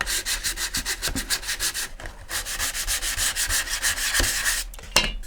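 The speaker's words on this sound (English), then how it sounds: "Sand that off." Sandpaper rubs rhythmically back and forth over a paper model rocket tube, scraping off dried super glue in quick, even strokes, close and clear with short pauses.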